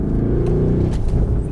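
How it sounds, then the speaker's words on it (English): A Mercedes-AMG GLC 63 S SUV with its exhaust in Sport Plus mode growls through a downshift, a loud, close, continuous engine roar with no speech. "now the exhaust is in Sport Plus mode"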